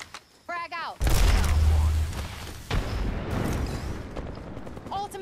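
A frag grenade bursts in Apex Legends with a sudden loud, deep boom that rolls off over a few seconds, followed by a second sharp impact amid battle noise, with a voice speaking briefly before and after.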